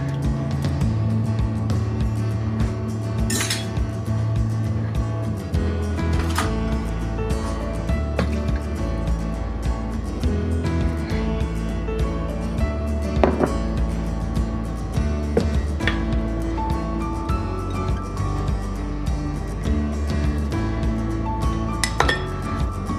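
Bananas, butter and egg are stirred together by hand in a bowl for banana bread: repeated clinks and scrapes of a utensil against the bowl, close and fairly loud, in an irregular rhythm throughout.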